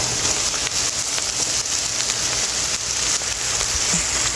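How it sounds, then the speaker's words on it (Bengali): Soaked basmati-style rice for biryani fries in a pot, giving a steady, dense crackling sizzle like rain on a surface, close and constant throughout with no talking. "এখন আমি চালটা একটু ভেজে নিচ্ছি।"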